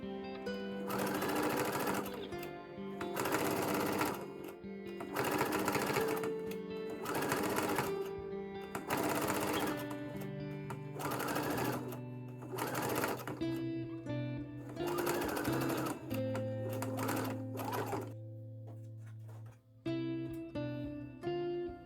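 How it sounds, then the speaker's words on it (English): A sewing machine stitching a line close to a bias tape seam at an armhole, running in repeated bursts of rapid whirring with short pauses between, fairly close and alone. "sew a line of stitching very close to the seam"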